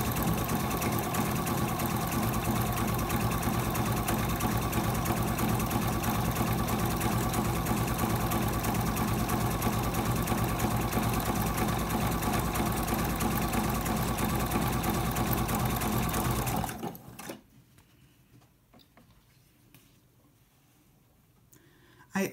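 A sewing machine with a built-in walking foot stitches a wallet in a steady, fast mechanical whir with rhythmic clicking for about seventeen seconds, then stops abruptly, leaving near silence.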